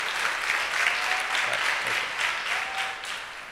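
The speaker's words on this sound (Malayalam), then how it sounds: "അവർക്ക് വേണ്ടി നല്ല കൈയടിക്കും." Sustained applause from an audience of teens at a camp session, a thick even wash of many hands clapping, loud and steady, tapering slightly at the end.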